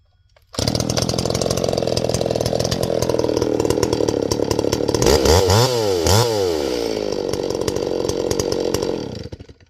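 An untuned Stihl 024 AV chainsaw cutting wood starts up loud and close, holding a steady high whine. Midway it bogs and revs in wavering sweeps as the chain bites the wood, then it drops away near the end.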